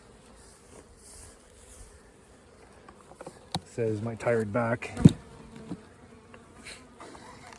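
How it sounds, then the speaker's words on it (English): Honeybees buzz around hives in a beekeeper's yard, with a faint background hum and a louder cluster of close buzzing passes midway. Someone speaks over them. "Gobs of bees."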